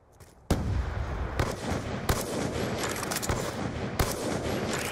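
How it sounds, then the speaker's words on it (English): Loud gunfire in a shooter video game 1v1 match, a sharp shot opening a dense sustained burst of rapid fire with repeated louder cracks, no talk. "Shooting at nothing, dude."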